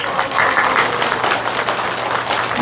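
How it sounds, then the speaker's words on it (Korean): Audience applause at a township New Year visit by a county governor in Korea, a steady dense clapping wash held at even loudness throughout, fairly close, with a faint murmur of voices underneath. "우리 위원장님 위해서 뜨거운 박수 한번 해주십시오."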